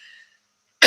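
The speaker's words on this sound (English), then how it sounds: "I apologize, I keep coughing." A single sharp, loud cough bursts out alone at the very end, after a stretch of near silence.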